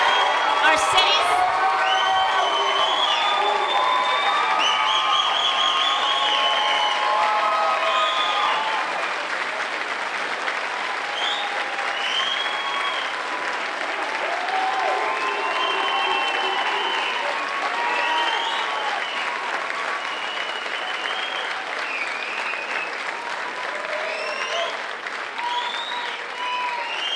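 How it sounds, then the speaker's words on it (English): A large audience at a St. Louis Metropolitan Police Department badge ceremony applauds and cheers new officers, sustained clapping with whoops and shouts rising strongly at first and then settling into a steady roar. "Let's have a big round of applause for the newest members of the Metropolitan Police Department"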